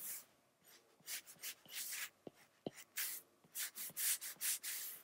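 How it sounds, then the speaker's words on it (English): A pencil sketches a triangle on paper in a cartoon drawing session, with close, rhythmic scratchy strokes repeating in short bursts and a couple of sharp taps, heard alone. "We're sketching here."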